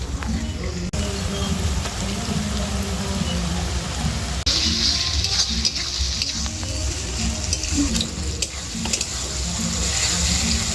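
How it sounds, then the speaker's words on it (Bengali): Ginger garlic paste sizzling as it hits fried onions in a pan while cooking a country chicken curry, a steady loud frying hiss with occasional stirring scrapes throughout. "এইবার দিয়ে দেবো এই আদা রসুন বাটা"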